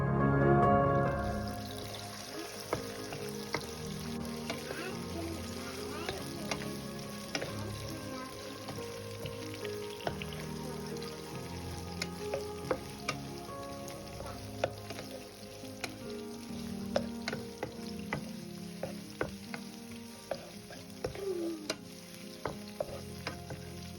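Onions frying in a pan with chives while being stirred, a continuous sizzle broken by frequent clicks and scrapes of the utensil against the pan, close and steady throughout.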